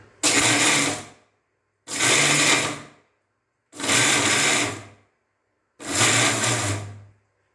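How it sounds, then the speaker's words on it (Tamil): A mixer grinder grinds edible gond (gum) for halwa in four separate bursts of about a second each, loud and close, with short silent pauses between the pulses. "இது ரொம்ப கோந்தெல்லாம் இருக்கிறதுனால கொஞ்சம் ஸ்லோவாக தான் அரைக்கணும்."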